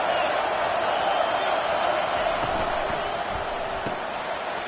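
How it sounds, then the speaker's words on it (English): A large stadium crowd at a football game roars steadily in the distance, a continuous wash of cheering and noise with a few faint thuds and shouts rising from it. "This crowd bringing the energy and noise early."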